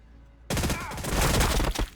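Sniper fire in Warhammer 40,000: Battlesector erupts suddenly after a quiet moment, a loud close burst of sharp cracks and crashing impacts that rolls on for over a second before easing.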